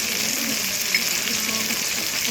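Ginger paste, chilli powder and garam masala frying in a pan with aubergine, a constant bright crackling sizzle that holds even and close throughout.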